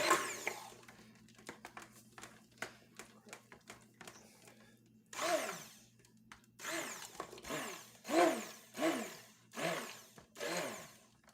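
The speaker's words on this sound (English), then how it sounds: "And just give it a quick stir." Handmade soap mixture containing lye is stirred in short bursts, with a whirring motor rising and falling in several pulses, quiet at first and then louder.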